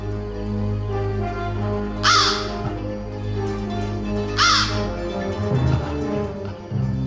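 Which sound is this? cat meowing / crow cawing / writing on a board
crow cawing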